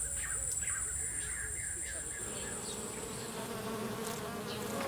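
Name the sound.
bees buzzing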